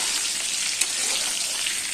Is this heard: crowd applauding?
no